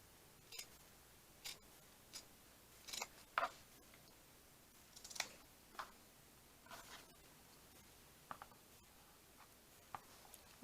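Scissors snip through fabric while a folio is cut out for a junk journal, giving a run of short, crisp, close cuts spaced irregularly with quiet pauses between.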